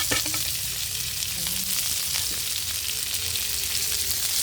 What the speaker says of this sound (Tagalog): Igisa natin yung dahon ng oregano and yung